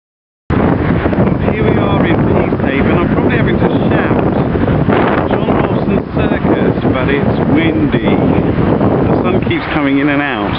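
Strong, cold wind buffets the microphone in a loud, continuous roar outdoors at a UK circus site, with a voice talking faintly underneath.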